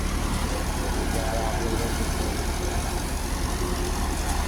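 A tractor runs steadily while threshing paddy rice on a farm in Bihar, its engine a constant loud drone and rumble with no breaks throughout.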